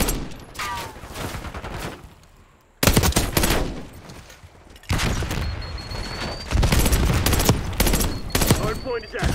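AEK-973 rifle fire in the video game Black Ops 6, loud bursts of rapid shots coming in several separate volleys with short quieter gaps between them, and a voice speaking over the shooting.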